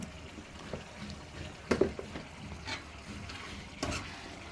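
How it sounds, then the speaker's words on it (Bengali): Spices being stir-fried in a pan, a soft continuous sizzle with scraping stirs throughout and two sharper clatters of the spoon against the pan. "এখন মশলাটা আবার 3 থেকে 4 মিনিট কষাইতে হবে।"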